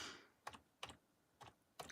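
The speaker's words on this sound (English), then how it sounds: "Let's type in Lake Huron for anybody who may not know, like Gina Honey." Four separate bursts of keys being struck on a computer keyboard, close and fairly quiet, spaced unevenly with short pauses between them and no one talking.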